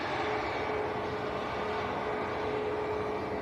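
A Global Express business jet touches down at Manchester Airport, heard as a steady, distant engine roar holding evenly throughout.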